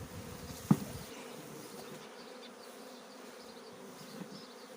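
A large honeybee swarm at an apiary gives a faint, steady buzzing hum, broken once by a brief sharp knock near the start.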